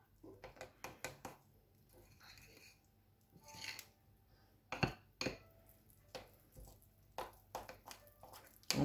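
Hazelnut chocolate truffle mixture stirred in a bowl, with a spoon or utensil tapping and scraping in irregular clicks and knocks, close and fairly soft, with a few brief quiet gaps.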